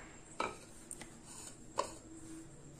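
In a home kitchen, a small cooking vessel is picked up and set down, giving two sharp metallic knocks with a few faint clinks between them, close and quiet with no talk.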